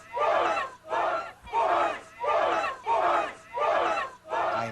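Republican supporters gathered in an election-night viewing area cheer loudly in repeated rhythmic crowd bursts, several surges of shouting with brief dips between them, no clear individual voice.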